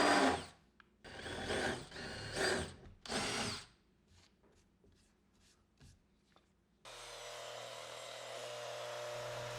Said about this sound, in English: Then I'm countersinking these old holes to clean up the edges